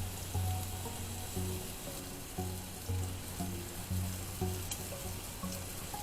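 Pork sears in a pan over medium-high heat with a steady, moderate hiss, and soft low knocks recur every second or so beneath the sizzle.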